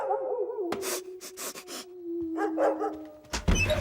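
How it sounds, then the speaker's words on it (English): Several sharp dog barks and yips come in quick bursts over a low background tone, with a louder cluster of barks at the end. "I'm playing this dog sound CD just to get into Jen's head a little more"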